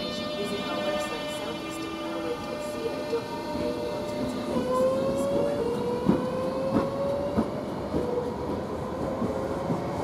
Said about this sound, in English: we'll get more of this Southeastern Thameslink Southeastern train when this train actually departs towards Gillingham